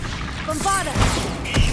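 A Bombarda blasting-spell explosion in Hogwarts Legacy bursts out as a short booming blast, followed by a second crackling impact a moment later, set amid game music and effects.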